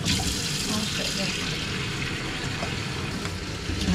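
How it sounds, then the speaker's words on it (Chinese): Water runs from a kitchen tap while a cake is being made, a steady close rushing stream with voices faintly underneath. "用水龙头加水了"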